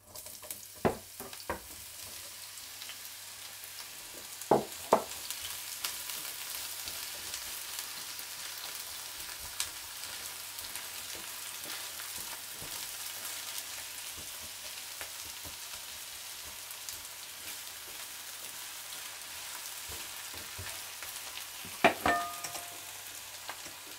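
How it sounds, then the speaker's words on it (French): Onions frying in hot coconut oil in a pan give a steady, close hiss of sizzling with a few sharper crackles and stirring clatters, and no voices. "Une fois que votre huile est bien chaude, on va commencer d'abord à mettre les oignons qu'on va faire revenir 1 à 2 minutes"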